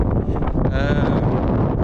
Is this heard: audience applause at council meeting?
no